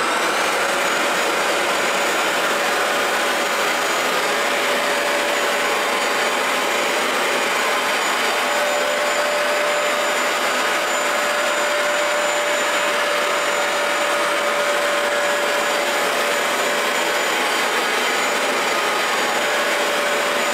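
A Bissell ProHeat 2x Revolution Pet Pro carpet cleaner runs with a constant loud motor whine and suction roar, steady and unbroken, with no one talking.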